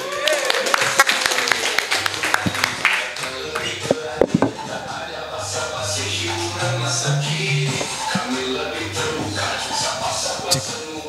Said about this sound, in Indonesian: Tepuk tangan buat Pak dosen Andri